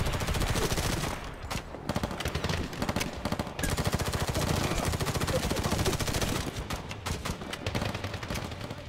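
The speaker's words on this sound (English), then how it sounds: "he's taking cover, he's popping shots and moving back in cover" Dense, continuous gunfire from a Medal of Honor sniper mission: rapid machine-gun bursts and overlapping shots form a loud, unbroken battle roar across the whole stretch.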